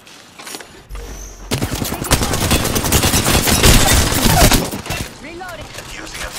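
Dense, loud bursts of rapid gunfire from an Apex Legends match fill the middle of the clip, fading into quieter game sounds toward the end.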